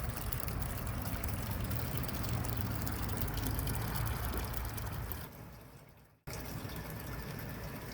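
Water in a garden pond with a biofilter splashes and trickles continuously, a dense close rushing wash that briefly fades and cuts out before resuming.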